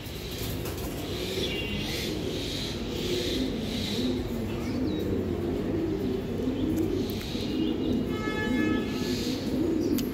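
A male army pigeon coos in repeated soft, throaty bursts at close range, with faint chirps from other birds in the background.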